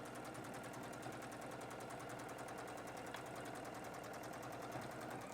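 A sewing machine stitches an apron pocket, its needle running in a fast, steady mechanical chatter that continues close and even throughout without pause.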